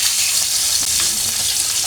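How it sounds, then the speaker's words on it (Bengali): A boiled egg frying in hot oil in a pan with salt and turmeric, a loud continuous sizzle with a few light stirring scrapes. "আমি এখন ডিমটাকে ভেজে নেব"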